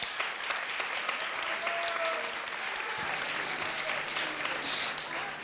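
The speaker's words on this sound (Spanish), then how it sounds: "Un aplauso, por favor, para ellos." Applause from an audience at a gala event, steady dense clapping filling the room throughout and lasting several seconds.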